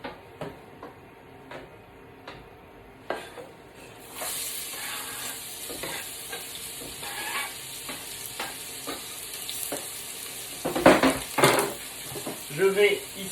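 Chopped onion sizzles in olive oil in a saucepan, a soft hiss that grows louder once it hits the hot oil, with repeated clicks and scrapes of stirring utensils against the pan.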